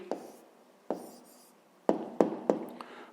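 Handwriting an answer with a pen on paper: scratchy strokes and sharp taps of the pen point, a few spaced marks then a quicker cluster, close and quiet with no talk.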